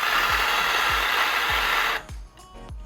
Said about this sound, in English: I'm gonna grind some coffee here. So we're grinding.